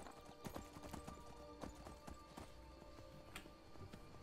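Horse hooves clip-clop at a steady walking pace in the video game Skyrim, with quiet, regular footfalls over a low background hum and no voices.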